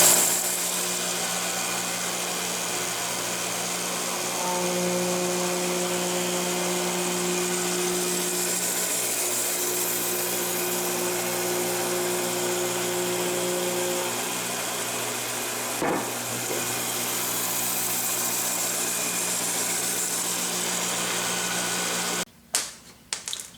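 A Yates American J180 planer runs at its lowest feed speed with the table set to barely pinch a board, giving a steady mechanical hum with tonal whine throughout, a single knock midway and clattering near the end.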